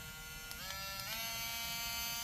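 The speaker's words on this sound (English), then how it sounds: "It's a little tiny mini sander." A tiny electric mini sander runs steadily, giving a close, high buzzing hum whose pitch dips and wavers slightly as it works, with no talking.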